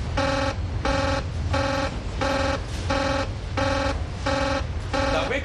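Control room alarm buzzer at a nuclear power plant sounds in eight evenly spaced harsh electronic pulses, loud and steady, with a low machinery hum underneath.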